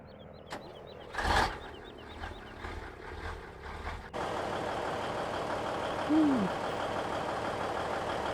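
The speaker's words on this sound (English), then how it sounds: "Loud tractor. Loud truck, actually." Loud truck engine in a farming video game, a sudden heavy rumbling drone that starts midway and holds steady, preceded by quieter clicks and a brief burst of noise.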